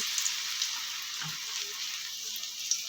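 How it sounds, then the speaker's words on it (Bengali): Helencha fritters hissing in hot oil in a pan, a steady close sizzle throughout with a faint soft plop partway as another one goes in. "তেলটা গরম হয়ে গেছে এখন এই যে একটা একটা করে ছেড়ে দেব"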